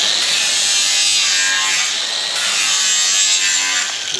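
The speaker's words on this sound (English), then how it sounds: "instead of over mitering with your chop saw, just grab the flapper wheel." A flap wheel on a power tool sands the back side of a wood shiplap miter, a loud continuous abrasive whir that holds steady throughout with a slight dip midway.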